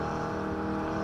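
Aston Martin Vulcan race car engine roaring steadily and loud, a dense continuous drone with no talking.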